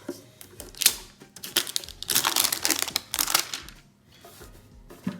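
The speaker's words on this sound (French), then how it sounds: "On va déjà enlever les scellages des 3, comme ça on gagne du temps pour la suite." Plastic seal wrap being torn and peeled off Pokémon card boxes, close crinkling and crackling in irregular bursts with brief quiet gaps, no talk.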